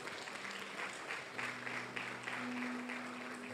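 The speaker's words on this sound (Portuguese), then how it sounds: "Aplaude a Deus por isso." A congregation claps together during a church sermon, a soft, rhythmic burst of applause heard from a distance over faint room tones, fairly quiet throughout.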